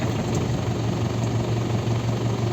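A truck engine idles steadily after starting, a continuous low rumble close by with no talk.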